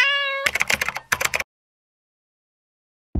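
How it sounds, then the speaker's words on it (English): An embassy cat gives a clear, close meow, followed by two short bursts of rapid computer keyboard typing, then silence. "You remember the embassy cat, right?"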